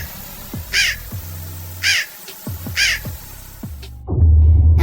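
A wild raven chasing a drone caws three times at a steady rhythm, each call harsh and fairly close, over a low mechanical hum that grows louder at the end.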